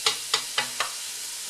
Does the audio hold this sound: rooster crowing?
no